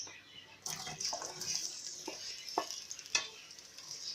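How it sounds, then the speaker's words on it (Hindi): Onions fry in about half a cup of hot cooking oil, a soft, fairly faint sizzle broken by a few sharp crackles and stirring taps, with no voices. "प्याज को हम थोड़ी सी देर फ्राई करेंगे, बिल्कुल इसको गोल्डन नहीं करना है"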